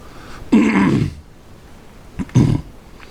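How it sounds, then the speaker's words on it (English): Two rough, gravelly throat clearings close to the mic, a longer one followed after a pause by a shorter one, with quiet between. "I just had to clear my throat"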